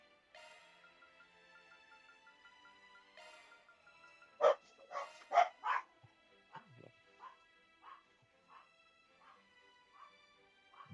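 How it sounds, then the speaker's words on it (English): Dogs barking indoors in a short, close burst of yips and barks midway through, with whimpers after, over quiet background music from a video game. "Dogs have to have their little barking fit every once in a while."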